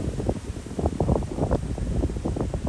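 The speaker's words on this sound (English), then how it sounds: "It's very windy right now." Strong wind buffets the microphone in rough, gusty rumbles at an apiary ahead of bad weather, steady and close throughout with no voices.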